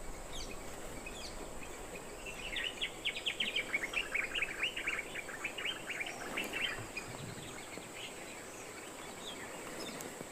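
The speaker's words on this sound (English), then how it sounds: "You can hear the birds chirping." Birds chirp in Yala, Sri Lanka, in a busy burst of rapid tweets that swells in the middle, then fades back into quiet outdoor ambience.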